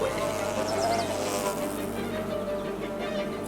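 A hovering swarm of bees or wasps hums steadily and fairly loud throughout, a dense continuous drone with no talking over it.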